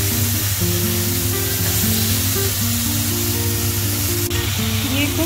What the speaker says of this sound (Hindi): तो ये चिकन ग्रिल हो रहा है